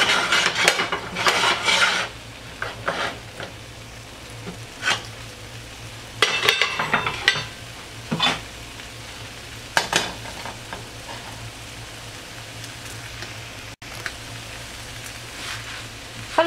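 A spoon stirs fish spring roll filling with vermicelli noodles in a small pot on the stove, with intermittent scraping and clattering strokes over a low, steady sizzle and several quiet gaps between bursts.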